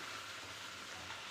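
Puri deep-frying in hot oil, a steady, even sizzle with no breaks, close and fairly quiet throughout.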